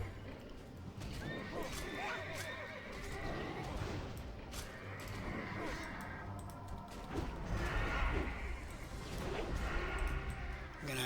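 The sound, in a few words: horse neighing in World of Warcraft video game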